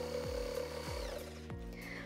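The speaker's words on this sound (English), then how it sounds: "it's the very first time I'm using a professional jigsaw" A professional jigsaw cuts through wood for an IKEA Pax wardrobe remodel, a steady loud motor whine with three brief dips in pitch as the blade loads up, continuous and close.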